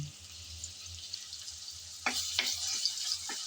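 Chopped onions frying and being stirred in oil in a pan: a steady low sizzle with several sharp scrapes and knocks of the spoon near the end, close and moderately quiet, with no talking.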